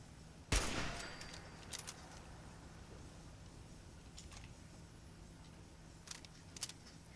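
In the video game Fallout 4, a single sharp gunshot cracks loudly at an enemy, followed by a fading echo and a few faint clicks and smaller shots later, with no talk.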